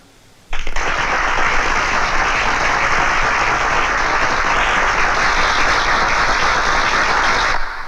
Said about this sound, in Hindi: अब मैं ये हार पहनाऊंगा ना तुम्हें, तो ये सब तालियां बजाएंगे।